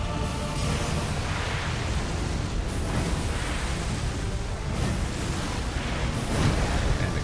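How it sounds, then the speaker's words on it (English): An explosion in the video game Elden Ring, a broad, roaring blast of noise that fills the whole stretch at steady loudness, rumbling and crackling without a break. "And explosion."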